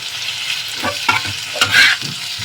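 Chicken liver being stirred and roasted in a pan over medium heat, a steady close sizzle broken by several scraping stirs of a spatula.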